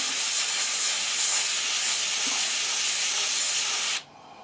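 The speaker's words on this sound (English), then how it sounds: "You just want a light spray coming out." An airbrush sprays paint in a continuous, close, even hiss for about four seconds, then cuts off abruptly, leaving quiet.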